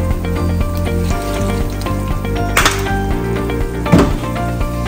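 Beef stew with ketchup simmering in a covered pot gives a steady bubbling sizzle with a regular pulsing rhythm, close and moderately loud, broken by a couple of brief clanks of a lid or utensil.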